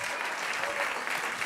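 A church congregation applauds during a lively Spanish-language worship service, a dense, steady wash of clapping from many hands that fills the whole stretch at even loudness.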